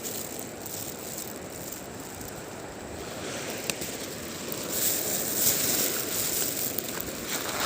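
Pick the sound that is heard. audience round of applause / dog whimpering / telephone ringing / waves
waves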